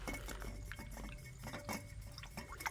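Glucose powder being stirred into a dish of water for a puppy, giving soft liquid swirls, small drips and faint clinks of the container, close and quiet with no talk.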